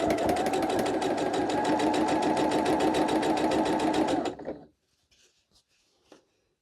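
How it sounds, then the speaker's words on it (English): A sewing machine stitches a quilt block seam in a steady, rapid, close-up run for about four seconds, then stops abruptly, leaving near-silence with a few faint handling clicks. "we're going to sew across here"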